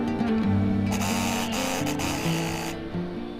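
A sewing machine runs a straight stitch through layered fabric for a cross-body bag, its needle chattering in a fast steady whir close by, with the speed shifting slightly partway through and no talk.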